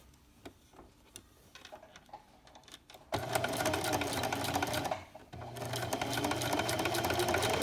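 A sewing machine runs a quarter-inch straight stitch along a baby sleeper neck seam, starting after soft handling taps into a loud whirring run, a brief pause, then stitching resumes, nearby and alone.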